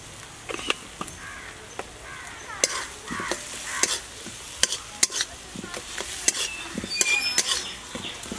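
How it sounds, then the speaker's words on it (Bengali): Spices for pointed gourd dolma get stirred in a pan over low heat, giving repeated scraping and clinking strokes over a soft sizzle, with crows calling in the background. "এবার আমি নাড়াচাড়া করবো কিছুক্ষণ"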